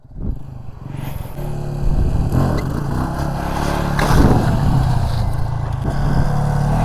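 A KTM motorcycle ridden during wheelie stunt training, its engine droning steadily and building louder, with some clatter, close by.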